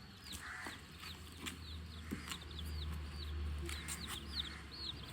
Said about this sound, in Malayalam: ഇതൊക്കെ നമ്മൾ കോഴിക്കുട്ടികളാട്ടോ